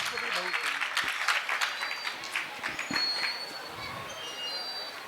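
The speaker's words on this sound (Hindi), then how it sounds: "उनके सम्मान में ताली बजाएंगे" Audience applause at an Indian religious discourse honouring donors, a scattered wash of clapping that tapers off over a few seconds.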